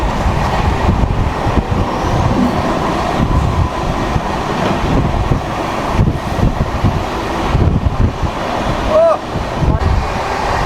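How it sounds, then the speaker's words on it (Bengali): An LHB express train leaving Kolkata station toward Tarapith rumbles steadily at speed, heard from inside the coach as a loud, continuous roar with wind noise and faint rhythmic clatter, and a voice speaking in the background. "কলকাতা স্টেশন ছেড়ে বেরিয়ে গেলো আমাদের ট্রেন"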